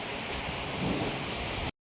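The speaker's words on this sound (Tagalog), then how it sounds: "Isa na naman ang malakas na ulan. Malakas na hangin." Steady, dense roar of heavy rain mixed with gusting wind, loud and continuous with no voices, cutting off abruptly near the end.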